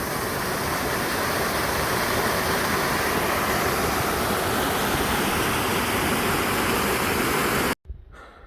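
A waterfall beside a hiking trail pours in a dense, steady roar close by, unbroken hiss filling the air until it cuts off suddenly near the end.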